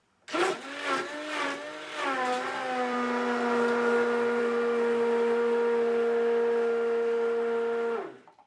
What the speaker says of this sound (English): you put the immersion blender in, you burp it just to get all the bubbles out, and then you're going to start pressing it